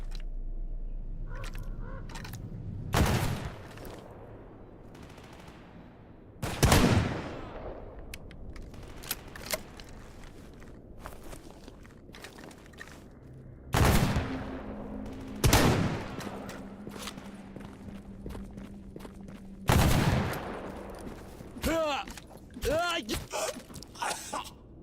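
Gunshots ring out in the game G.A.M.M.A., several sharp, loud single cracks spaced seconds apart, with talk and scattered game noises between them.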